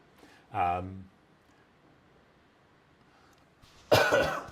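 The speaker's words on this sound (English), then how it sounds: "Sorry, adding a little bit of cough." Two coughs, one short and voiced early on, then a harsher, louder burst near the end, separated by near silence.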